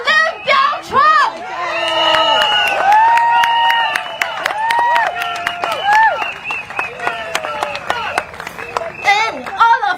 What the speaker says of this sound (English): I want a bigger round of applause for Mr. Lim Biao Chuan.